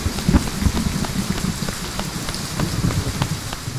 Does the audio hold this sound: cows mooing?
no